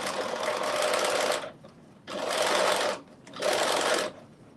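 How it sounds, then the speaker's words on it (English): A sewing machine stitching knit fabric for a crop top, running in three loud close bursts of rapid whirring with short quiet pauses between them, no voices. "now I'm about to do this stitch there"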